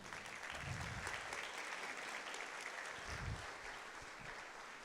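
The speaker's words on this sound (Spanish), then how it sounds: "¿Cuánto le dan palmas de alabanza al Señor?" A church congregation claps in praise, sustained, even applause from many hands filling the room at a moderate distance, with faint voices beneath.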